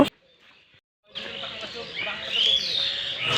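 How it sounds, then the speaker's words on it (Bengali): Birds chirping and calling at dawn on a riverbank in light fog, a steady layer of song with a clear whistle standing out, after a brief quiet moment. "মানুষের কোলাহল নাই আর এত সুন্দর পাখির ডাক"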